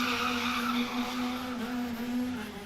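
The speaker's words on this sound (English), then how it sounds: "Goldstein does the donuts on the start-finish straight, adding an extra layer of rubber on the circuit" A KZ2 kart spins donuts on the start-finish straight of a circuit, its tyres skidding in a loud, continuous squeal over a high-revving engine drone.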